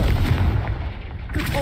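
A booming Confringo blast spell explodes in the Hogwarts Legacy video game, a heavy rumbling burst with a short low tail, loud and close.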